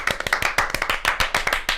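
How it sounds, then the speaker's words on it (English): A small group claps steadily on a podcast set, the sharp, close hand claps falling in a quick, uneven rhythm that runs unbroken for under two seconds. "so clap it up for us"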